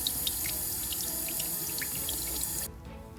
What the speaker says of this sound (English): Time for a quick rinse just to get out any shampoo that I might have missed before brushing.